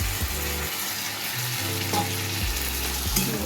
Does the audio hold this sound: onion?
yes